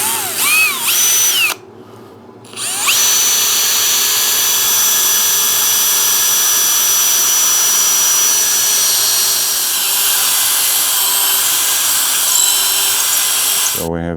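Power drill boring into a wooden puukko knife handle, a loud sustained whine that starts, cuts out briefly, then runs steadily at high speed for over ten seconds up close.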